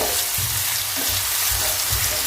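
Tomatoes and onion fry in a pan for egg biryani, making a dense, loud, continuous hiss of sizzling oil that stays close and even throughout.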